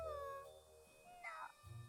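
A cartoon cat in the video game Catie in MeowmeowLand gives a couple of soft, short meows over light background game sounds.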